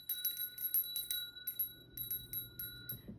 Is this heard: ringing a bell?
yes